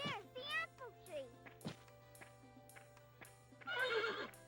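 A horse neighs briefly in the PS1 game Dora the Explorer: Barnyard Buddies, a short whinny among a voice and cartoon speech over soft game music.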